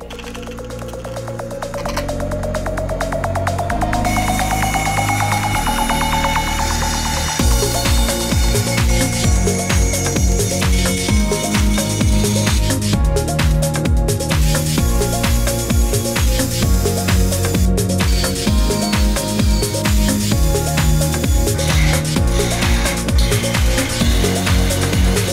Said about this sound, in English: so now we can cut the excess on a bandsaw.